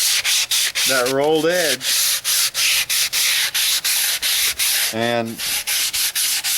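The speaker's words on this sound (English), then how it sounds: "take some sandpaper here, and we're just gonna be working that" Sandpaper rubs the rolled edge of a wooden stretcher board in quick, regular back-and-forth strokes that carry through the whole stretch, loud and close, with someone speaking briefly twice over the scraping.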